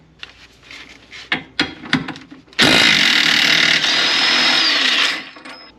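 A power tool spins off a 21 mm rear shock nut on a 2004 GTO, opening with clanking and tapping before a loud, steady whirring burst of about two and a half seconds that cuts off abruptly.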